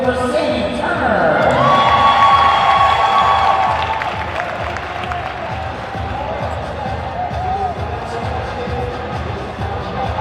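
At a high school cheerleading state finals, a packed crowd claps and cheers loudly, swelling early then settling into steady applause, with an announcer's amplified voice speaking over it.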